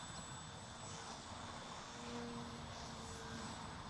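A radio-controlled 3D aerobatic plane flying in gusty wind, its engine giving a steady, continuous drone with faint pitch shifts. It is fairly distant and heard alone without talk.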